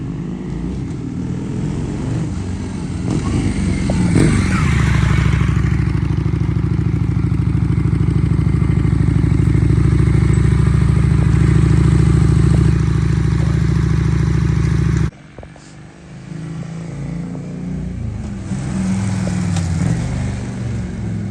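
Honda Shadow 600 bobber-style motorcycle engine rumbling loud and close, with revs rising and a steady low drone held for about ten seconds before a sudden drop at a downshift, then the engine picks back up.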